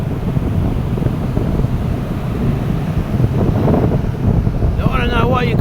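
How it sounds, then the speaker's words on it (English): Wind buffets the microphone at an ocean shore as waves wash in with a low, rough roar, while a high chirping sound comes in near the end. "Big beautiful ocean right here."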